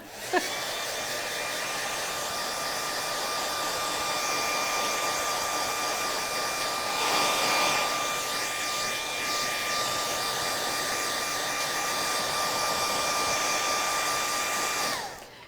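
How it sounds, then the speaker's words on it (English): A hair dryer blows steadily at close range to dry paint at a craft session, a continuous whooshing hum with a faint whine that runs unbroken and alone for the whole span. "I've got to kind of step over to reach the hair dryer."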